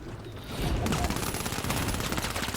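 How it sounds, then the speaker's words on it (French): Dense bursts of video game gunfire from the battle royale Apex Legends crackle continuously after a brief quiet start, rapid overlapping shots filling the clip at steady loudness. "Il y a encore des coups de feu vers chez moi."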